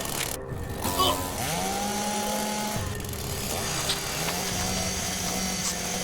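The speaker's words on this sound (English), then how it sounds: "The chainsaw hit his shoulder and spun mercilessly." Chainsaw sound effect in the visual novel game Rebellions, a steady close motor whine that rises and holds over a dense, noisy roar, continuous and loud throughout without speech.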